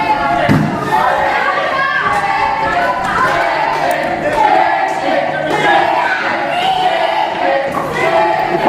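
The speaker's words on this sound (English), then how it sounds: "The crowd are letting him know how they feel." A live UK wrestling show crowd roaring and shouting in a large hall, a steady loud wash of jeers and chatter with occasional thumps, continuous throughout, with voices talking over it.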